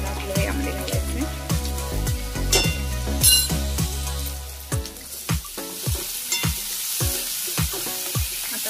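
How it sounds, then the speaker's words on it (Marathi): Chopped onion sautéing in oil for spring onion sabji, a continuous close sizzle broken by regular scraping strokes as it is stirred, fairly loud. "3 ते 4 मिनिट आपल्याला कांद्याला तेलामध्ये परतून घ्यायचं आहे।"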